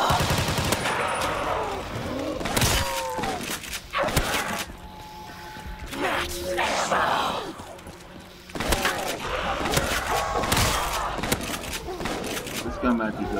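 Repeated shotgun blasts go off in Call of Duty Black Ops 3 custom zombies while a player chats over the action. The loud, dense bursts cluster at the start and again near the end, with game clatter filling the gaps.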